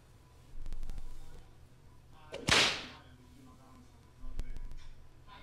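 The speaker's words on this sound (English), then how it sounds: "I heard a whip." A cartoon soundboard plays a whip crack, a single sharp snap that trails off in under a second, framed by low knocks and background noise.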